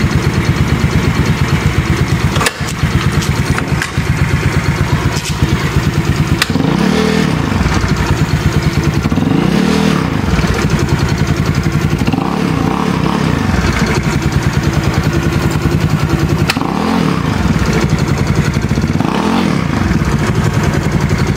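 Motorcycle engine idling steadily after a DIY Bendix repair, a loud close mechanical rumble with light clatter and periodic low pulsing swells, running alone with no talk.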